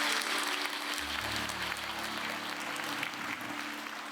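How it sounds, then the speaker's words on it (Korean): A church congregation applauds the children during a service, a steady, fairly distant round of clapping that continues throughout, with faint low hum underneath. "박수 쳐 주시고."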